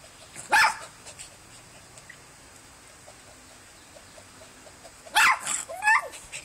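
A couple of sharp, high dog barks, one early and a pair near the end, separated by quiet stretches.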